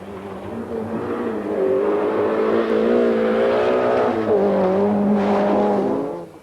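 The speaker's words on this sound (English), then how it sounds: "This is 30-year-old Kenneth Eriksson in his Volkswagen Golf GTI." A Volkswagen Golf GTI rally car driven by Kenneth Eriksson on the 1986 Lombard RAC Rally, its engine holding a steady loud drone that rises and shifts in pitch as it accelerates, close and continuous with no talk.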